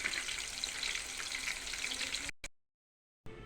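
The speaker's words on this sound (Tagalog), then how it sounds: "Tara mga kailyan, nagpiprito na tayo." Tempura frying in hot oil gives a steady, dense sizzle and crackle for a couple of seconds, then cuts out abruptly to near silence before faintly returning.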